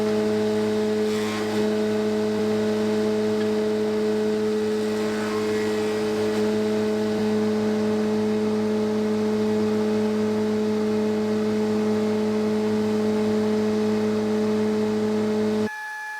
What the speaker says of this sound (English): And that's the beading finished on the spindle moulder.